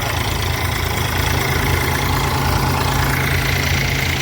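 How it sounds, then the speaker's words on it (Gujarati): A mini tractor engine runs steadily at close range on a farm, a loud continuous rumble with a low throbbing chug and no pauses. "મિની ટ્રેક્ટર લઈને આવી ગયા"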